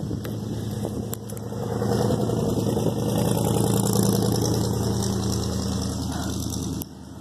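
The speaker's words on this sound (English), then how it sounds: "Chill out with your car." A car engine runs close by during an outdoor bike ride, a steady idling rumble that swells slightly and holds throughout, then drops off abruptly near the end.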